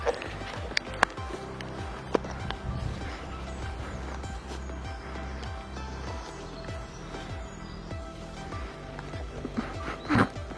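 A pony walking at an easy pace on a ride outdoors, hooves striking the ground in a steady, uneven clip-clop, fairly close and moderate in volume, with light rustling and brief knocks scattered through.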